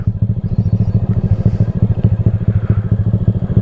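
A motorcycle idles along in first gear with no throttle, its engine putting out a steady, close, evenly pulsing low thump throughout.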